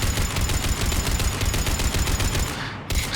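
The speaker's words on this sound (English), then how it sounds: "Taking fire." Rapid gunfire from the Mass Effect video game, dense overlapping automatic shots hammering steadily for nearly three seconds, loud and close, before a brief cutoff and a final burst.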